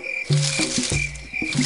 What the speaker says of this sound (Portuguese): Ribbit, ribbit. Sapo.